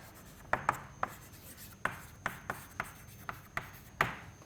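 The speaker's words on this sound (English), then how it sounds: "So, let me write that down." Chalk or marker writing on a board during an engineering lecture, a series of sharp taps and short scratchy strokes at irregular intervals, fairly close and quiet, with no talking over it.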